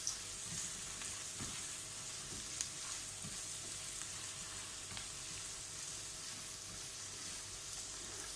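Garlic fries in a pan for a meat and pasta tagine, making a faint, even sizzle with a few soft ticks and clinks, close and continuous, with no talk.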